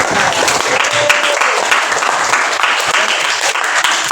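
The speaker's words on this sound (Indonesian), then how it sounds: "berikan aplaus sekali lagi untuk teman-teman" A classroom of students applauding their classmates, sustained dense clapping at full strength throughout, close and loud, with faint voices mixed in.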